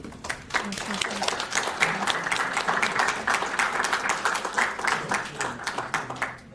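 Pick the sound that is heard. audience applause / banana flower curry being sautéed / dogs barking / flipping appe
audience applause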